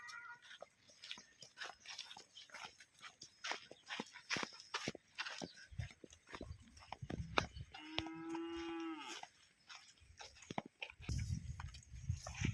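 An HF cross dairy cow with black and white patches moos once in a long, drawn-out low call midway through, amid barn noises and quiet clatter.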